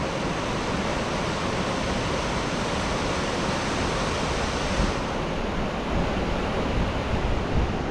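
Hellroaring Creek in Yellowstone rushes in a dense, steady roar of flowing water, loud and close, continuous with no breaks.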